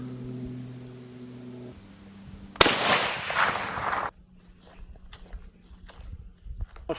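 An SKS rifle fires a single sharp shot into a block of hickory wood outdoors: quiet ambience, then one loud crack with a brief decay, followed by faint shuffling and small clicks.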